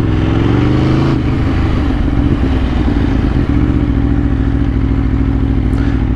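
An Aprilia RSV4 RF sport motorcycle engine roars loud and close, a dense continuous drone with a rising rev early on, then a sustained throaty run, alone without talk.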